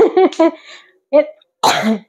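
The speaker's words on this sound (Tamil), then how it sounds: "இருமல் வருது" Three short, harsh coughs in quick succession, close and fairly loud, separated by brief pauses.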